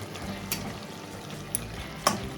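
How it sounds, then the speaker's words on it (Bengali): Lata fish simmers with onion stalks in a pan under a steady close sizzle and bubbling, with a few light scrapes and taps from stirring. "একটু নাড়িয়ে দিচ্ছি।"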